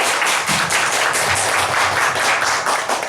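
A church congregation at a Sunday service applauds, a dense, even patter of many hands clapping steadily at close range throughout.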